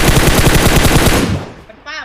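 Rapid automatic gunfire in PUBG Mobile, a loud fast burst of repeated shots that fades out after about a second and a half, followed by a brief voice.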